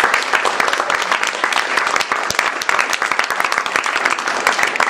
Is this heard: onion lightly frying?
no